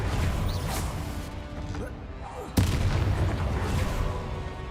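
A Confringo fire spell bursts in Hogwarts Legacy, a sudden loud crashing blast partway through over a dense rumbling battle din of other spells.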